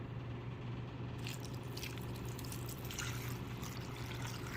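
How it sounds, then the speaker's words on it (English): Water pours steadily into a large cooking pot on a home stove, a continuous splashing fill with a low hum beneath, no voices. "now I'm just going to fill some water"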